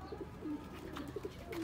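Sialkoti pigeons coo in a few soft, low, rounded calls close by, with short pauses between the notes over a quiet background.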